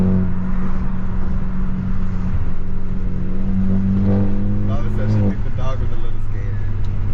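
A tuned Stage 2+ BMW F30 on the road drones and revs under loud cabin conversation, with a few sharp crackling exhaust pops near the end.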